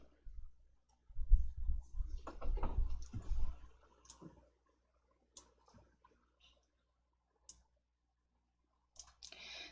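Computer mouse clicking while working in Excel, a quick cluster of clicks early on followed by sparse single clicks, quiet and close with no talk.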